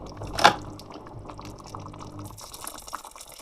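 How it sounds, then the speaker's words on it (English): Hot water poured into a thick homemade baked beans mixture with tomato puree, a brief splashy pour near the start, then a soft liquid trickle and stirring noise, close by. "A bit more hot water to the mixture."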